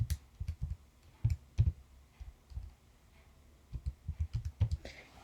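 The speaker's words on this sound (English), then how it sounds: "And you can type that into your calculator." Calculator keypad buttons pressed in quick clusters of light, close clicks, two bursts separated by a short pause.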